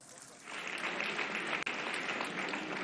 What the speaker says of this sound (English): I thought you were going to give him a round of applause.